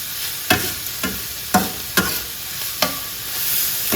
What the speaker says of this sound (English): So you can already see that our onion and green peppers are starting to cook a bit.